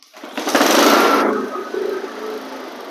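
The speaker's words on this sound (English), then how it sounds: "It does seem to run fairly good at high RPMs." A flood-damaged lawn mower engine revving at high RPM, then dropping to a lower, steadier running drone, loud and close with no talk.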